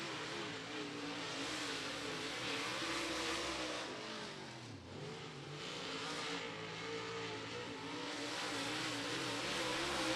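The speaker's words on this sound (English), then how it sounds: "Super late models now out on the Speedway" Super late model race cars roar around an oval speedway during qualifying, a loud continuous engine drone with a pass dipping in pitch midway, heard from the grandstand without talk.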